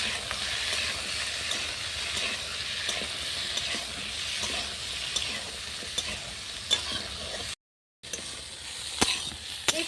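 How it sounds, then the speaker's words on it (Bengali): Mixed winter vegetables, including pumpkin and eggplant with turmeric and salt, fry in a pan over a clay stove with a steady sizzle and stirring scrapes throughout, broken by one brief silent gap. "কুমড়ো হলুদ আর নুন দিয়ে সবজিগুলো ভেজে নেবো"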